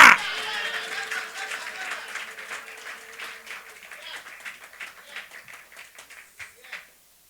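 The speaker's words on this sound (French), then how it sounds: "Applaudis bon Dieu pour ça" Church congregation applauding during a sermon: a burst of clapping that starts loud and thins into scattered, fading claps, with a held voice tone under the early part.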